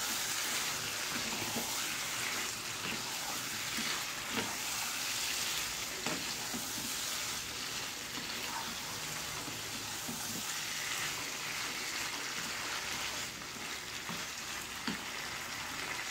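Black chicken with tomato sauce is stirred in a pan, a soft steady sizzle with occasional scrapes and clinks running throughout, fairly quiet and close, no voices.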